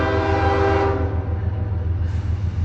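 An eastbound double-stack intermodal freight train passes a railroad crossing, its horn sounding loud and sustained up close over the low rumble of the rolling cars.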